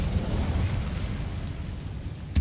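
A fire spell cast in Hogwarts Legacy, a dense low rumbling whoosh of flame sustained for a couple of seconds, ending in a brief louder burst at the very end, with no talking over it.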